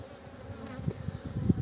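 Honeybees buzz in a dense, droning swarm at an open hive that swells and grows louder toward the end, close by, with no talking.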